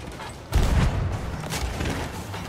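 In Sea of Thieves gameplay, a gunpowder barrel explodes with a sudden deep boom, followed by a rumbling tail and a second duller thump, heavy low rumble filling the brief moment.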